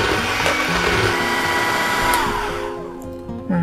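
An electric hand mixer whirs steadily at high speed through chocolate cake batter, a constant close motor drone that eases slightly near the end.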